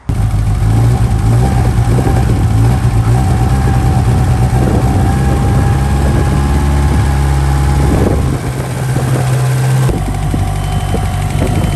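A Mitsubishi Evo 8 with a newly fitted downpipe and repositioned O2 sensor idles close up, a loud, steady low drone with a throaty exhaust note that dips briefly before settling back to a constant rumble.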